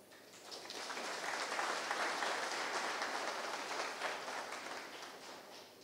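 An audience applauds the Air Sénégal team at the airline's seventh-anniversary celebration. The clapping is steady and moderately distant, swelling slightly and holding even for about six seconds with no voices over it.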